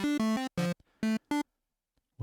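Oberheim Teo-5 synthesizer playing a square and saw oscillator patch: five short, bright, buzzy notes in a quick phrase with gaps between them, played alone with no talk.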